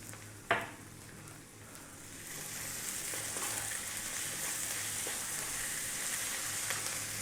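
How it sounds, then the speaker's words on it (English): Garlic ginger paste hits hot oil with onions and spices for a Rohu fish curry, giving a sharp splash followed by a steady, fairly close sizzle and frying hiss with a few faint stirring scrapes. "we're now going to add in garlic ginger paste."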